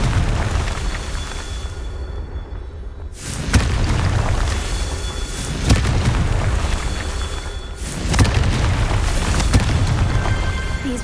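Confringo blasting spell explosions in Hogwarts Legacy, heavy booming blasts that hit in close succession, each a loud broadband burst with a deep rumbling tail, over continuous battle noise.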